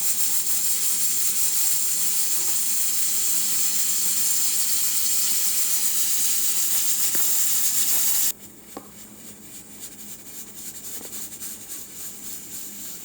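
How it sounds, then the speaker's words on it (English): Pressure cooker pot releasing built-up steam after cooking vaca frita: a steady, loud hiss for about eight seconds that cuts off abruptly, leaving a faint lingering hiss. "we're just waiting for the pot to release some of the pressure that's inside"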